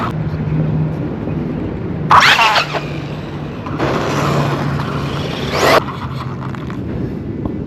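A red Mini XRT RC car on a 3S battery whirs along steadily. Two louder bursts of scraping, crackling tire noise come up close, over faint background hum.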